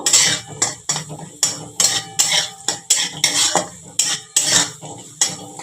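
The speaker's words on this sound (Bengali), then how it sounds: "দেখো এটা আমি অ্যাড করে দেবো চীনা বাদামগুলো। একটু ভালো করে নাড়াচাড়া করে নেব।" Peanuts and boiled potatoes are stirred in a pan, with a metal spoon scraping and clanking in a quick regular rhythm of about a dozen close, loud strokes and no talk.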